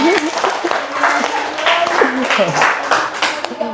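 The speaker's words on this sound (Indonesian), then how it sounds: "tepuk tangan dulu dong" Schoolchildren in an Indonesian classroom clap their hands together in a lively, dense burst that runs steadily throughout, with a voice and chatter mixed in over the clapping.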